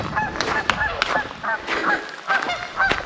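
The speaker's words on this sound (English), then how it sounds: "And Wade's having fun talking to the geese." Geese at a lake in Turtle Mountain Provincial Park honk repeatedly in short, nasal bursts, several calls overlapping, fairly close and clear.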